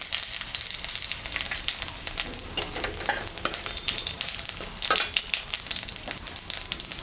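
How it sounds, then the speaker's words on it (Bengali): Dry red chillies and cumin seeds crackle in hot oil left from frying fish, giving a close, moderate sizzle with sharp pops and stirring scrapes throughout. "মাছ ভাজা তেলের উপরে শুকনো লঙ্কা, জিরা, সম্বরা দিচ্ছি।"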